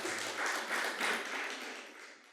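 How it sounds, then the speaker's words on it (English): A church audience gives a round of applause, a dense wash of clapping that swells and fades over a couple of seconds at moderate distance, with a brief voice at the start. "let's give her a round of applause"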